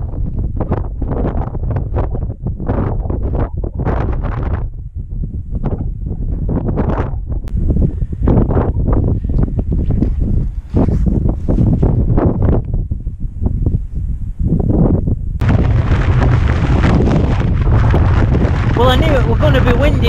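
Strong wind roars across a Scottish mountain summit, Beinn an Eoin in the Torridon hills. Loud gusts buffet the microphone in heavy rumbling bursts, and the blasting grows even more intense toward the end.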